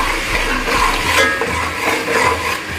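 Garlic and ginger fry in a pot, a loud close continuous sizzle with stirring scrapes, and no speech over the cooking.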